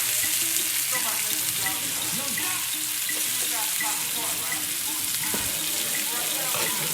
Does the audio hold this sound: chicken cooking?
yes